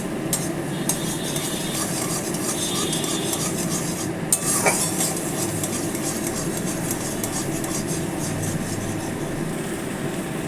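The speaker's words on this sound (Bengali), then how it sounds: "এটাকে এইভাবেই কড়ায় ভেজে নিতে হবে।" Continuous soft sizzling with steady scraping and stirring in a metal wok, occasional light clinks, close and even throughout.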